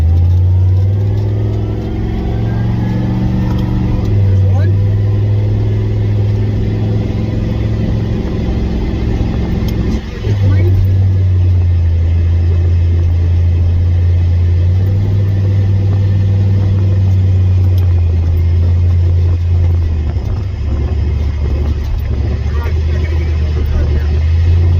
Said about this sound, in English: It's running, driving, shifting gears.